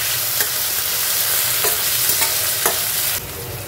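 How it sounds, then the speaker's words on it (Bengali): Onion, tomato and chili fry in hot oil with a steady, loud sizzle, broken by a few brief stirring scrapes; the hiss drops slightly near the end. "টমেটো আর লঙ্কাটা দিয়ে দিলাম"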